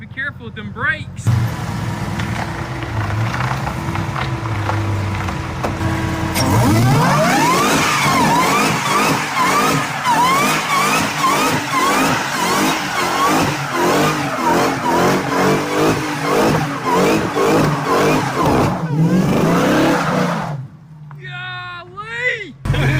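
A minivan fitted with a Hellcat engine roars on a road test, first idling low, then surging into hard acceleration with rising, repeated revs through the gears, loud and close, while people shout excitedly over it.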